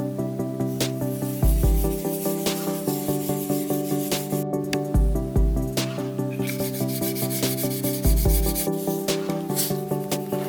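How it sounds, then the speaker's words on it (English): Wet sanding a Fujimi 1/24 Subaru Legacy plastic model kit with fine-grit sandpaper up to 10,000 grit: steady back-and-forth rubbing strokes in a quick repeating rhythm, close up, over continuous background music. "I then moved on to wet sanding the model kit"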